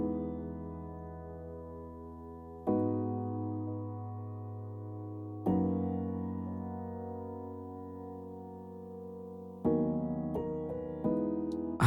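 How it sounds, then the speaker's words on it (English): A soloed piano part from an electronic track plays sustained chords that change every few seconds, each struck chord ringing out and fading before the next, with a quicker pair of chords near the end. "Then I have a piano, which is part of the drop and the intro as well."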